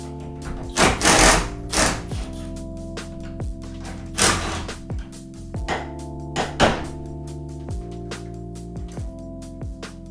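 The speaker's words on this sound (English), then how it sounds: "we're going to be using an 8mm to take those off and simply just pull it out" Power tool fitted with an 8mm socket backing out tail light bolts on a Ford F150, a close mechanical whirr with steady tones broken by several loud, sharp clunks and rattles, no voices.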